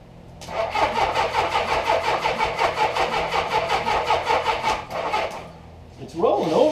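A 1983 Suzuki GS850 motorcycle engine cranks over steadily on the starter, a rapid, even rhythmic churning that runs for several seconds without firing, then stops as a voice speaks briefly.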